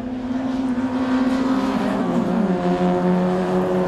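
Clio-class race cars at Donington Park roar past at close range, engines droning with rising and shifting pitch as they lap the circuit, loud and continuous with no voices.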